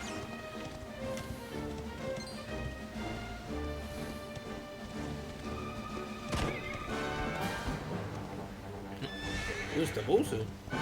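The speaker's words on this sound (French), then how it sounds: "Et voilà un cheval qui apparaît dans de nulle part." Horse whinnying in Dragon Quest XI as a mount appears out of nowhere, with game music and sound effects playing over speech throughout.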